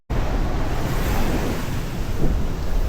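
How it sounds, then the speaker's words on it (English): Ocean surf washes in a continuous loud roar at the shoreline, with wind buffeting the microphone throughout. "Now we're gonna get into the ocean, cool off."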